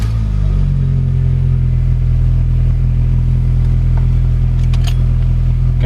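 A Mini Cooper engine with a P0420 catalytic-converter emissions fault code settles into a loud, steady idle with a low rumbling drone close by, with no talk over it.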